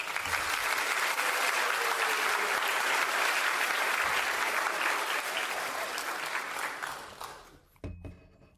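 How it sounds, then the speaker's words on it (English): Sustained round of applause from a crowd, dense and even for several seconds before fading out, with a brief knock near the end. "let's go and give ourselves a round of applause for that one"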